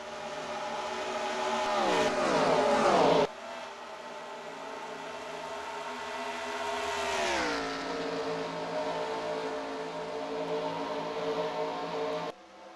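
Video game race cars at Chicagoland roar past close by, with engines climbing in pitch through the gears, a sharp cut, then another pack surging and revving in a steady, loud drone with no talk.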